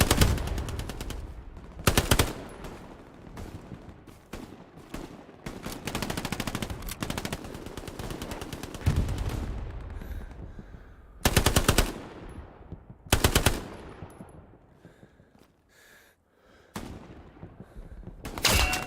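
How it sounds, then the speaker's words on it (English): MP40 submachine gun fire in the World War II game Hell Let Loose comes as repeated loud automatic bursts, mixed with distant battlefield gunfire and explosions over a noisy background. "I'm playing artillery with this MP40 right now."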